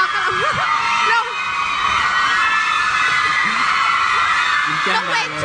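Fans at a live Thai concert scream and cheer in a loud, continuous wash of high-pitched shrieks while a presenter's voice speaks over the crowd noise.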